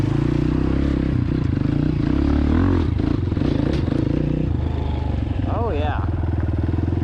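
A motorcycle engine runs loudly and roughly on a flooded trail, chugging up close with clattering and scraping over it. A person speaks briefly over the engine.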